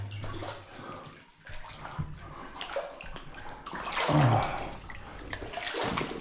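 Someone wades through waist-deep water inside the Die Sonne mine adit in the Izera Mountains: irregular sloshing and splashing surges echo in the tunnel, growing louder midway, with no talking.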